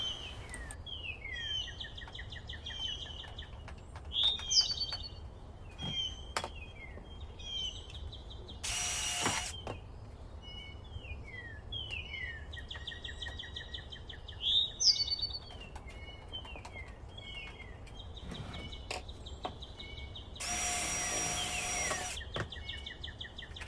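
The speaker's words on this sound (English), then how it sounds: "first by drilling receiving holes, then adding the screws" Two short bursts of power drilling cut through a quiet background of chirping birds, the second longer and louder.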